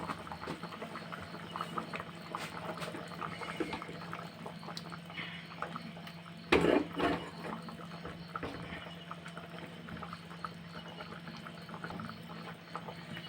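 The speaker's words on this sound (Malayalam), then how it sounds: "തിളച്ച് പറ്റിയിട്ടുണ്ട്" Curry simmers in a pot, a quiet, steady bubbling and crackling patter, broken midway by a single louder clunk of the lid or a utensil.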